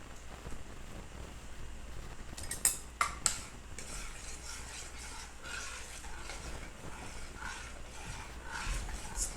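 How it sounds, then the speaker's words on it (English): A spoon stirs a pot to dissolve ingredients, quiet scraping and clinking with a few sharper metallic taps early on, under low background hiss. "Give it a stir until it's all the way dissolved."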